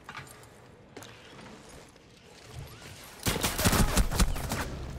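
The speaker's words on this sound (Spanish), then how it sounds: "Tres tiros en la hijueputa cuerpo de Concaveira y no muere" Gunfire in Rainbow Six Siege, a loud burst of rapid shots erupting near the end after quieter in-game ambience.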